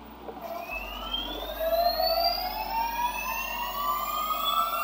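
A drone motor on a balancing setup spins up toward its target RPM, a close, loud whine whose pitch climbs steadily with several rising harmonic tones, running continuously without speech.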